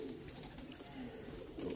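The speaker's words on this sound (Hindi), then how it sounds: "ये जैनवन डब वाला कबूतर है" A pure Dub breed pigeon gives a soft, low coo, fairly faint against a murky background, with no talk.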